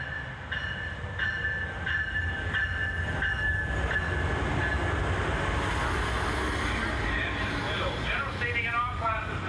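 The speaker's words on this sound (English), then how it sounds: "A few minutes later, and there's our train." An Amtrak Pacific Surfliner train rolls into a station with a steady rumble and a repeating bell. Wheel and brake squeals rise near the end as it slows.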